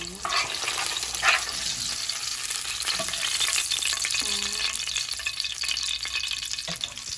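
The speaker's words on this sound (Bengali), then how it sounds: "দেখেন এইরকম ভাজতে হবে।" Mrigal fish fry in a pan of oil, giving a steady, close crackling sizzle with occasional scrapes and stirs across the whole span, and no talk.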